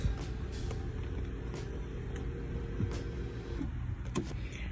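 Electric power seats in a car whir steadily as they move upward, a continuous motor hum with a few faint clicks, heard close inside the vehicle interior.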